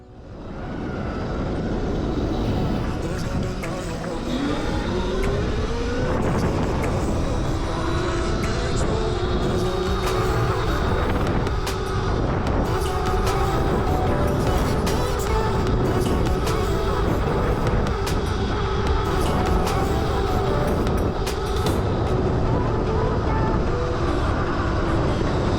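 A Razor MX electric dirt bike rides a trail, giving a loud, unbroken rush of motor whine, wind and rumbling over terrain, with the motor pitch rising as it accelerates early on.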